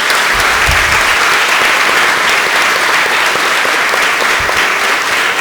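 A dense, steady wave of audience applause fills a solemn session of the Arujá municipal council in Brazil. The clapping stays loud and close throughout, with no talking over it.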